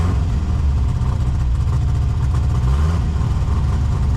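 A car engine idles nearby in a low, steady rumble that holds unchanged for the whole stretch, loud and close, with no talking.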